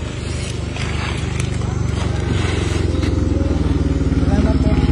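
A motorcycle engine runs nearby with a rough, building drone and light clatter, while people talk over it.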